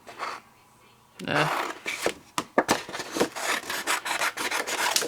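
Thick Centura Pearl cardstock being cut up close, with a run of coarse rasping, scraping strokes of uneven length that begin after a short quiet pause and continue steadily to the end.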